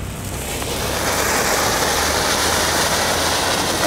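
A Silver Fountain firework fountain from Lidl burns with a loud, steady, roaring hiss that swells up within the first second and then holds evenly, with no voices over it.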